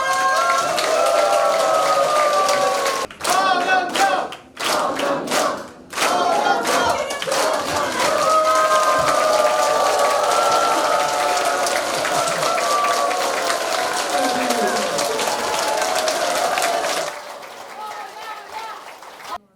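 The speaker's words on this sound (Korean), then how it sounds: "활화산처럼 타오르는 뜨거운 박수로 허경영 총리님을 맞이해 주시기 바랍니다" Crowd applause and cheering greet a speaker at a Saturday lecture hall event, a loud sustained roar with breaks and shouts mixed in, fading out near the end.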